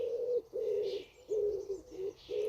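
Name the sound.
pigeon cooing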